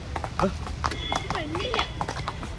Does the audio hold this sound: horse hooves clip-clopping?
yes